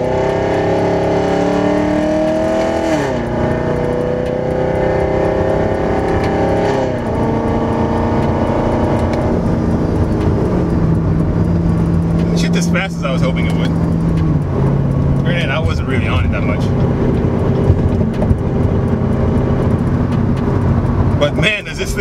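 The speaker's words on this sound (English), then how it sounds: "This car does have Corsa exhaust that I can tell, and I think it also looked like it had headers on it, so it sounds really healthy" A 2015 C7 Corvette Z51 with a Procharger supercharger, Corsa exhaust and apparent headers, heard from inside while driving: a steady deep exhaust drone with rising and falling revs under continuous talk.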